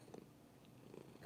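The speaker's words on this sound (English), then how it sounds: "She's a really loud purr." A fluffy, heavyset house cat purrs loudly close by, a low, continuous rumbling throb that pulses softly and steadily over a brief moment, with no talking.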